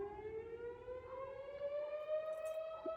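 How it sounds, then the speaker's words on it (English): A civil defense siren wails outside from a distance, holding one long tone that slowly climbs in pitch, faint but clear over quiet surroundings. "Got a siren going off"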